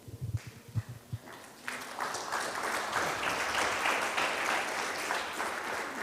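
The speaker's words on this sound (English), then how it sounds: "Big round of applause, please." After a few scattered early claps, a lecture-hall audience breaks into full, sustained applause at the close of a talk, dense and steady through to the end.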